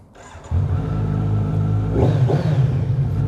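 A 2020 Kawasaki Z900 motorcycle engine rumbles low and close, then revs upward in a couple of quick throttle blips, loud and alone with no voices.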